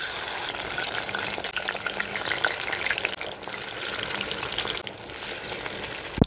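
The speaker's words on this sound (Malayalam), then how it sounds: "അരമണിക്കൂറെങ്കിലും മാരിനേറ്റ് ചെയ്ത് വെച്ചതിന് ശേഷം അടികട്ടിയുള്ള ചീനച്ചട്ടിയിൽ എണ്ണ ഒഴിച്ച് നമുക്ക് ഫ്രൈ ചെയ്തെടുക്കാവുന്നതാണ്." Marinated chicken fries in oil in a heavy-bottomed pan, giving a dense, continuous close-up sizzle with small bubbling crackles and no talk.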